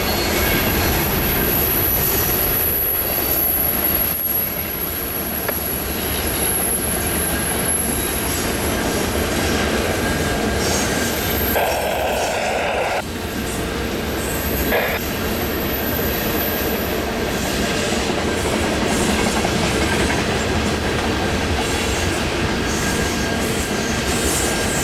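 A CN freight train with grain cars and cars of old ties rolls east around a big curve at Brantford, wheels squealing steadily and clattering over the rails in a long, continuous passage.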